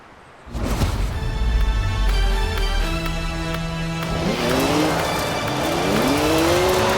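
A BMW 1M in the Forza Horizon 4 racing game starts up after a brief quiet, its engine loud and close, then revs as it drives off. Tires squeal and skid in long wavering tones toward the end.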